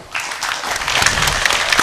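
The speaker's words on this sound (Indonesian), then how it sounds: "kita beri tepuk tangan dulu" Audience applause at a cooperative and small-business community forum in Central Java, a steady, dense clapping from a sizeable crowd that fills the hall throughout.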